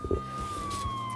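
A police siren wails from a distance, a single thin steady tone that slowly falls in pitch, faint over a low background rumble.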